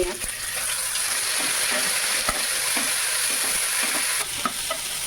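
Cumin seeds and garlic fry in oil in a pan, producing a steady crackling sizzle with occasional stirring clicks and pops, fairly close and loud throughout.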